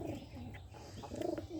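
Hungry pigeons gathered at freshly scattered feed coo softly and rustle nearby, a few low throaty calls over faint background noise.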